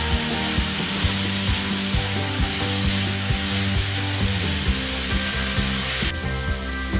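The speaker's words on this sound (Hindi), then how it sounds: "5 से 7 मिनट अच्छे से फ्राई कर लेना है ताकि गाजरें सॉफ्ट हो जाएं।" Grated carrots fry in a pan over high flame, a steady broadband sizzle running throughout with a rhythmic scraping and clinking of a spoon stirring, close and continuous.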